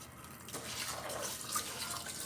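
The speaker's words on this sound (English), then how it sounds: "I'll do one more rinse on my rice." Rice being rinsed in water during jambalaya prep, a steady close wash of sloshing and trickling water with faint dripping, no talk over it.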